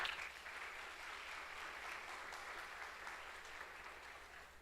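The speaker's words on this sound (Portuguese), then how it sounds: "Dê um aplauso ao Senhor por isso." A church congregation applauds during a sermon, a steady wash of many hands clapping that holds at an even, fairly quiet level for the whole stretch with no talk over it.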